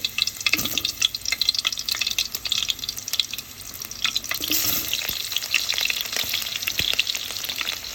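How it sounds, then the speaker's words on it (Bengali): Onion frying in hot oil for biryani crackles and sizzles up close, with irregular stirring clatter and scraping over the continuous hiss. "এটা এখন তেলটা গরম হয়ে গিয়েছে, পেঁয়াজটা দিয়ে দিবে।"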